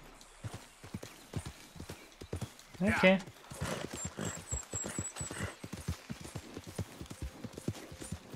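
Rhythmic clip-clop of horse hooves in Red Dead Redemption 2 throughout, with a short louder burst near the middle and brief spoken words over the top.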